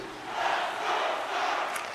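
A hockey arena crowd in a video game roars and cheers in a steady, dense wash of voices, fairly loud and continuous with no distinct talk on top.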